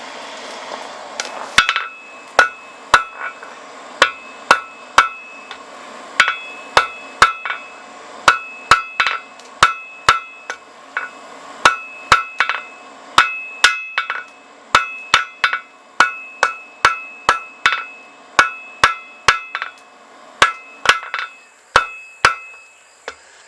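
Blacksmith hammer striking a piece of rebar on an anvil, drawing its end out to a point: a long, steady run of sharp metallic blows with ringing overtones, close and loud, with no talk.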